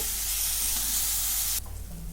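Samosa filling of ginger and green chilli sautés in a pan, a dense, close sizzle with stirring scrapes that holds steady and then drops off sharply near the end, leaving a quieter low rumble.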